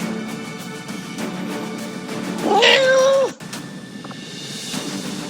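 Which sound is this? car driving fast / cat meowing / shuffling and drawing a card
cat meowing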